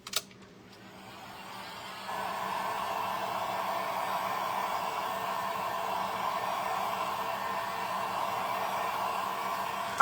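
A hair dryer blows steadily on a DIY polar bear light-up kit, a loud continuous whoosh that starts softly after a click and then jumps to full power, running alone without pause.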